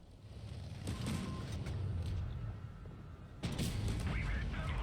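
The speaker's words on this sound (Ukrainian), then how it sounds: "Під танком стріляю." Tank cannon shots in World of Tanks Blitz, fired from beneath an enemy tank: two loud booming blasts about two and a half seconds apart, each followed by a rumbling tail, with low engine drone between.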